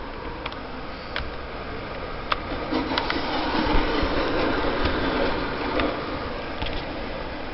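Big Boy steam locomotive running in the Trainz railway simulator game, a steady rumbling train passage with rail clatter and scattered metallic ticks, moderately loud and continuous with no talking.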